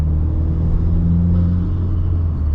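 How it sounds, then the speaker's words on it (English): A Subaru WRX's small turbocharged four-cylinder with an aftermarket cat-back exhaust and cold air intake holds a deep, steady rumble, loud and close for a couple of seconds. "Even though it's just a tiny little turbo and we got a little four banger, like it sounds fun."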